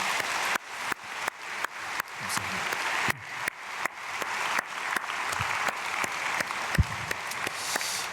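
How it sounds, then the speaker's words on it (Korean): Congregation clapping in a church during an early-morning prayer service, a steady dense applause that fills the room and continues evenly throughout, with no talk over it. "박수로 축복하겠습니다"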